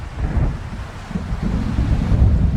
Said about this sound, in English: Now there was nothing but waves.